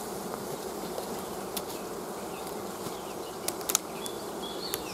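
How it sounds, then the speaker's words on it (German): Honeybees buzz steadily at an apiary hive entrance, a dense continuous drone close by, with a few sharper passes of individual bees flying near. "Dann werden die Bienen vor das Flugloch gegeben."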